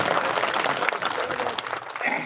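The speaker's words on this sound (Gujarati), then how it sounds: "પધારો સ્વાગત છે આપનું તાળીઓથી" Applause from a crowd at a farmers' meeting welcomes Isudan Gadhvi, a dense burst of clapping over a couple of seconds, with voices beneath it.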